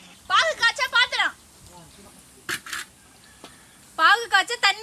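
A vessel for boiling sugar syrup for jigarthanda is handled, giving a couple of brief metallic clatters in a pause between stretches of close talking.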